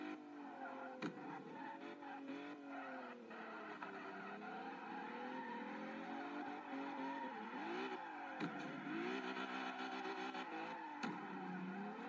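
A front-wheel-drive Honda Civic Type-R (EK9) on track loses traction accelerating through a corner, its engine revving and surging with tire squeal and scrubbing, engine pitch dipping and climbing as the wheels spin.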